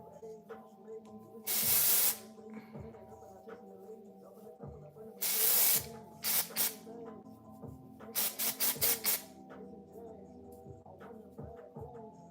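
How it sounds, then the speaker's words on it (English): Several long bursts of aerosol texture spray hiss close by as it is sprayed on hair, then a run of short rapid sprays, over a quiet background hum and faint handling noises. "This is like a texture spray."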